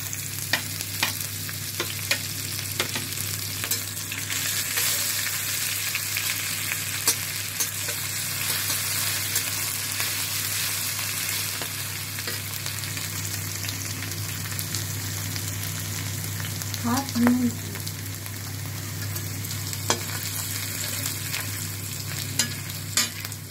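Cumin seeds and turmeric fry in hot oil with a steady, close sizzle and crackle, with occasional light spatters and one brief clink of a utensil, lasting throughout without talk.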